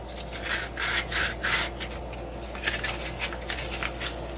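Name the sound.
sanding a prop lightsaber hilt to soften scratches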